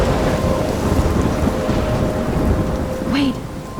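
A thunderstorm rages in the video game Life Is Strange: heavy rain pours steadily under deep thunder rumbles, and a brief whistling gust comes near the end. The storm is loud and close, with no talking.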